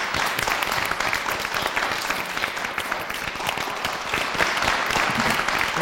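A studio audience at an Armenian comedy evening show applauds steadily to welcome a guest, a thick continuous wash of clapping from many hands.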